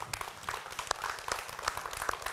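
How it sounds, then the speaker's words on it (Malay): A studio audience claps steadily through the whole stretch, a continuous patter of many hands heard at a moderate distance on a religious TV programme. "berikan tepukan kepada anda"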